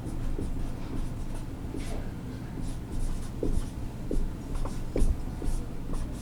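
Hand writing or drawing, faint scratchy pen strokes in short irregular bursts over several seconds, with low talk running underneath.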